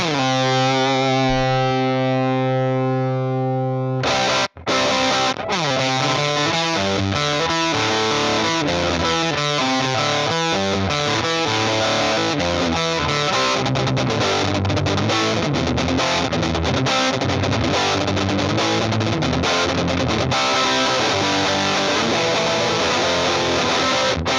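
A heavily distorted electric guitar through a punk rock preset sounds a ringing chord, then launches into fast, loud, driving punk-style riffing that continues without a break.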